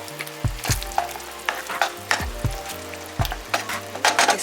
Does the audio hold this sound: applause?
no